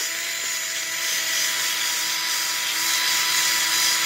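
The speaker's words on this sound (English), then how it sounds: "If I keep rubbing in one spot, it will completely get all the paint off." Paint flakes are rubbed off an outdoor wall being cleaned of ivy, giving a steady, dense scraping hiss that runs continuously without pause, with a faint tonal hum in the background.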